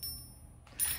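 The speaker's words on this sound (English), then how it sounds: "he has wheels, so he must roll and ring his bell." A vintage Santa toy on wheels rings its small bell, a bright metallic ding that bursts in near the end after a quiet stretch, close and fairly loud.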